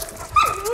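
A sled dog barks once at a snowy kennel, a single sharp, close bark with a short rising-falling whine trailing after it over quiet background.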